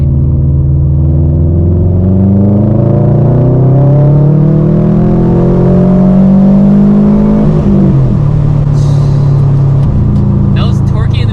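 A Subaru WRX STI set to sport sharp mode pulls hard, its engine note climbing steadily and loudly, then dipping briefly at a gear change before building again.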